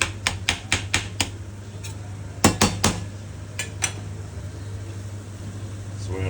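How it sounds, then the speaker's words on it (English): A spatula chops and scrapes ground meat in a pan in a burst of sharp, quick taps and clacks, then a few more scattered knocks over a low sizzle, close and clear. "If there's any kind of big chunks, you can chop that up either with your spatula or your silicone."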